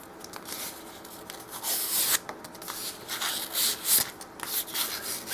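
Brass guitar nut being hand sanded with 400 grit sandpaper strips, a close, uneven scratchy rubbing that rises and falls in short strokes, with no talking.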